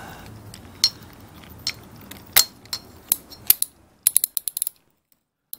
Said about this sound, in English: I like to use a small ratchet